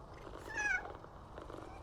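A cat in the PowerWash Simulator 2 game gives a brief, faint purring trill with a rising meow-like tone, sitting low in the mix under steady game background.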